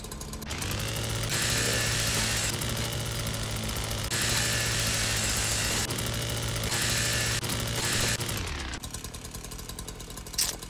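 A chainsaw revs loudly in the VR shooter Hot Dogs, Horseshoes & Hand Grenades, its steady motor drone rising in several roaring bursts before it cuts off near the end.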